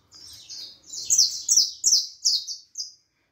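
A saffron finch, the Brazilian canário da terra, sings a run of bright, repeated high chirps in quick clustered phrases, close and clear, with faint low background noise beneath.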